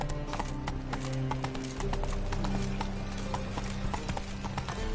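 Horse hooves clip-clopping at a steady trot in The Witcher 3, a loud, continuous rhythmic patter over dense game ambience and music.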